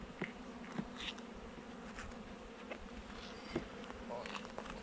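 Honeybees buzz around an open hive during a spring inspection in fine weather, a steady low hum with individual bees zipping close by now and then.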